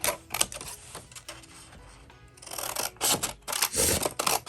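Scissors cut fabric pieces for a zigzag-shaped origami bag, a run of crisp close snips and paper-like rustles in an irregular rhythm, louder toward the end.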